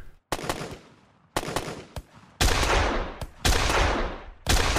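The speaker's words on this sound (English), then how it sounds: "So this sound, I'm getting the up-close gunshot." Close, loud up-close gunshots in an Unreal Engine 5 game, fired in several sharp bursts, each crack followed by a short ringing decay, with brief pauses between volleys.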